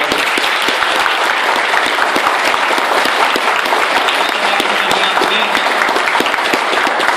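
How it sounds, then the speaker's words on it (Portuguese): Audience applause at an event with Nelson Piquet and Vectra support vehicles, dense and steady throughout, many hands clapping together at close range with no talk over it. "uma salva de palmas para a gente"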